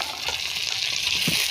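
Potatoes seasoned with salt and turmeric fry with onion stalks in a pan, giving a steady, close hiss of sizzling oil throughout with a few faint stirring knocks.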